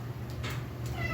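A cat meows indoors, a faint, short pair of cries rising above a low, steady hum at a moderate distance.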